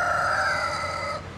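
A rooster crows at a chicken coop in the small rural town of Unity, New Hampshire, giving one loud, close, drawn-out call that holds steady and then cuts off.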